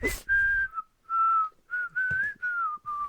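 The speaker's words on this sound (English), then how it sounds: "Form that O shape that you see when people whistle" A person whistling a short wavering tune up close, several sustained notes in separate phrases with brief gaps, loud and clear alone.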